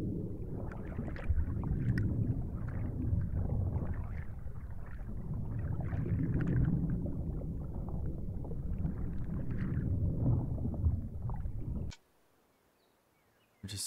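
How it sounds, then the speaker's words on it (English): Underwater ambience in the fishing game Ultimate Fishing Simulator 2, a soft low rumbling wash of muffled water that surges gently, steady and quiet, cutting out abruptly near the end. "I do like the underwater sounds, though."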